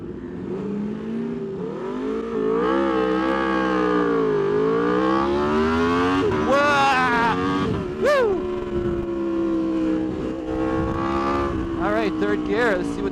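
An Aprilia RSV4 RF superbike launches from a standstill on the clutch alone, its engine loud and close, the revs climbing and dropping in pitch through several surges as it pulls away.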